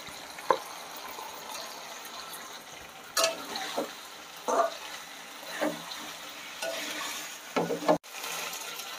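Cubes of paneer and half-cooked potatoes sizzle gently in a pan, with a soft steady frying hiss broken by several stirring scrapes and clatters at irregular intervals.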